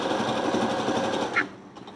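Sewing machine stitching blouse fabric, a fast, even mechanical rattle heard up close that stops abruptly near the end, with no talk.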